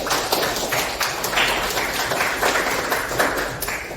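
A classroom of students claps together, a steady, dense burst of applause that holds at an even level for the whole stretch.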